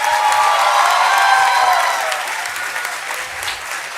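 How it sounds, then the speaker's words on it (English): Applause from a large audience at a degree certificate distribution ceremony, loud and continuous at first, then easing slightly while still going across the whole stretch. "can we all have a huge round of applause for everyone?"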